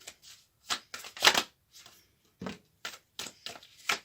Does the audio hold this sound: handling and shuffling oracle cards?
yes